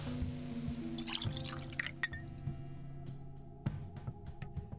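Water pours and drips in the Pathologic 2 video game, a brief splashing burst followed by scattered drips over a low, steady ambient hum.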